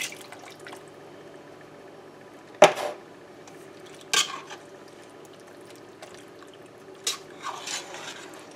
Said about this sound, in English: I'm going to add this big can of tomatoes